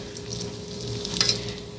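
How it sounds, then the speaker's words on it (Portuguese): Food fries in hot oil with a soft, steady sizzle at close range, a few faint clinks now and then, and no one talking. "Eu vou fritando aqui."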